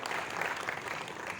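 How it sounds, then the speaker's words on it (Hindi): Audience applause fills a World Sickle Cell Day workshop in Jabalpur, a dense, steady clapping from a crowd in a hall that holds evenly for the whole moment with no voices. "आप भी तालियां बजा के अभिनंदन कीजिए।"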